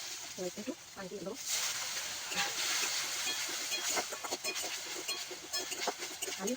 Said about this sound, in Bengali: এবার একটু পানি দিয়ে দেবো।